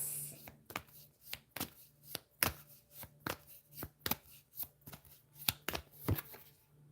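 Tarot cards are shuffled by hand in a rapid run of crisp riffling snaps, a dozen or so sharp bursts close to the ear with quiet gaps between them.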